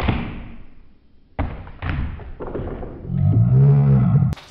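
A toy catapult from the Catapult Kingdoms board game fires, and its shot hits the game pieces with a few loud, close thuds and clatters. A low, droning vocal noise follows near the end.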